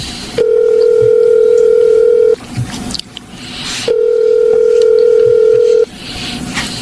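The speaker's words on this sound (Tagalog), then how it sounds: "Tatawagan kong number na nag-text sa kanya." A telephone dial tone sounds loudly in two long steady bursts separated by a short gap in which there are faint dialing clicks and noises.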